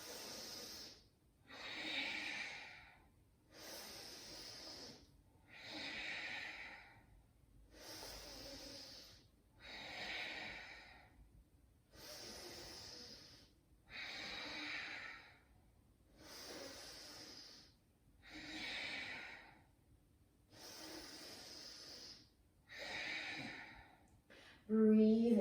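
Steady, deep breathing during a power yoga session, long slow inhales and exhales alternating in an even rhythm, close and clearly audible, repeating about a dozen times with no talking over it.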